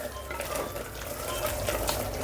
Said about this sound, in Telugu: కరివేపాకు వేసుకొని కొంచెం కలిపేసుకుందాం.